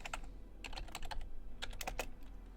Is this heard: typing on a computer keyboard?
yes